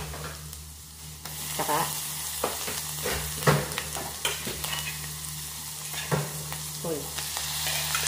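Chopped mushrooms frying with browned garlic in a pan, a continuous sizzle broken by bursts of scraping as the pan is stirred, with a brief spoken word partway through.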